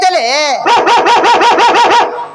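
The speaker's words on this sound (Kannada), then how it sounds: "ಅದರ ಕೂಡ ನಾಲ್ಕು ಗಂಡು ನಾಯಿ ಜೋಡು ಮಾಡ್ಕೊಂಡು ನನಗೆ ಇಲ್ಲಿ ತನ ಅಟ್ಟಿಸಿಕೊಂಡು ಬಂದವು" A dog barks in a fast regular string of about eight yelps, loud and close, after a short whine.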